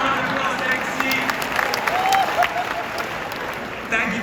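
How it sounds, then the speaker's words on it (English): An audience bursts into applause, a dense wash of clapping from a sizeable crowd with voices mixed in throughout. "Give yourself a round of applause"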